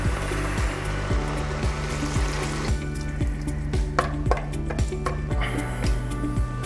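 Broth poured into a Cook4me pot already holding lentil soup ingredients, a steady rushing liquid wash under a regular mechanical ticking, close and fairly loud, without speech.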